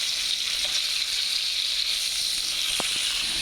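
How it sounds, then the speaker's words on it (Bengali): Tilapia fish frying in hot oil, a steady, close, bright sizzle that runs unbroken throughout, with a couple of faint clicks near the end. "মাছ ভাজা হয়ে আসতেছে"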